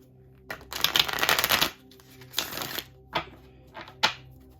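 Tarot cards being shuffled in several bursts: a long riffling flutter, then shorter quick shuffles and snaps, close up with no talking.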